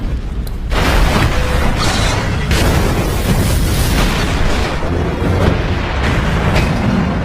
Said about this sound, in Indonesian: beberapa bom yang tadi sudah diaktifkan Smith tiba-tiba meledak satu persatu